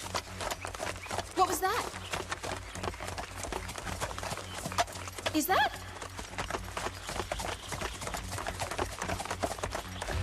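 Horse hooves clip-clopping at a steady quick rhythm as a boy rides by in an animated Cinderella film, light and moderately close, with a short whinny and people talking over it.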